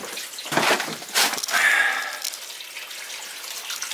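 Water gushes out of a 250 litre tank over a van in bursts of splashing and running, loud at first, then easing into a lighter, steady trickle outdoors.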